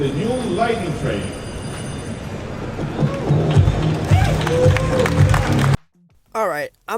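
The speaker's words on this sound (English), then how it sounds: "Ladies and gentlemen, the new lightning train." A Zamperla Lightning roller coaster train rolls along its track with a rumbling, clattering run under a crowd's chatter and cheering, then the sound cuts off abruptly, followed by brief fragments.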